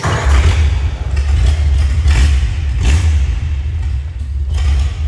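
A 1929 Ford Model A Roadster engine with three carburetors fires up cold and runs loud and close, with a rough low rumble, a few thumps and slight rises in revs.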